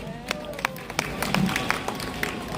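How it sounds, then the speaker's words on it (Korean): Audience applause at a Korean professors' gathering, a short burst of scattered clapping from a small crowd, moderately loud, with faint voices underneath. "여러분 박수 부탁드립니다"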